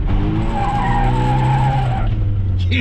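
Truck tires skidding with a loud, sustained squeal over engine rumble for about two seconds, then fading out.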